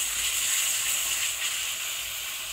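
Ground spice masala sautéing in oil for egg curry gives off a steady, soft sizzling hiss that holds at an even level throughout, with no voices.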